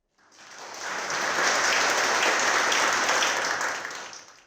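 Audience applause at an APAC business summit kickoff, a broad wash of clapping that swells quickly, holds steady for several seconds, then tapers off.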